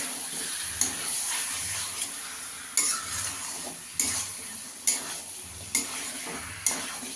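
Chicken stir-fried in a pan over high gas, with a steady loud sizzle and regular scraping strokes of a spatula against the pan about once a second, no voices.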